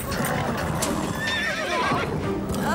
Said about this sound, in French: Stéphanie, contrôle ton cheval.